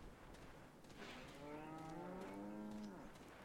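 Cattle moo in the Resident Evil 4 video game, one long low drawn-out call rising and falling over a murky rumbling background, moderately close and without speech.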